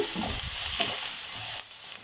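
Tomatoes for kothu parotta sautéing in a pan with salt, giving a steady close sizzle with stirring scrapes and a few soft clinks that ease off near the end.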